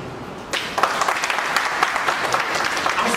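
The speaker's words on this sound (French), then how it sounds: "C'est pourquoi je vous demande s'il vous plaît d'applaudir." Audience applause at an official ceremony announcing national exam results, a burst of many hands clapping that starts abruptly and holds steady and fairly loud, with no speech over it.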